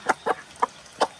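A hen clucks while feeding on the ground after rain, with four short, sharp clucks spaced unevenly over about a second, close and moderately loud.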